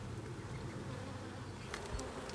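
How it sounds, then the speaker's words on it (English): Honeybees swarm at an open hive in a continuous close buzzing hum, with individual bees passing near and briefly rising in pitch. "So I'm going to brush these bees off"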